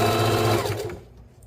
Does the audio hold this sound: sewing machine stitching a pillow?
yes